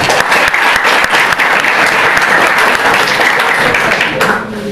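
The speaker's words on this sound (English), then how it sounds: "you should again the give the big round of applause for that boy also" A big round of applause for a boy at a National Mathematics Day event, loud and dense clapping from a large audience that holds steady before fading away at the end.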